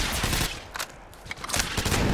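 Gunfire in Apex Legends on the Kings Canyon map: dense, rapid bursts of automatic shots crackle in quick succession at moderate volume, with no talking.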